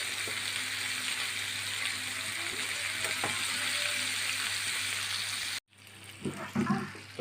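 Chicken pieces frying for butter chicken, a continuous hiss of hot oil sizzling in a pan that cuts off abruptly, followed by a few soft clunks and scrapes as the pieces are turned.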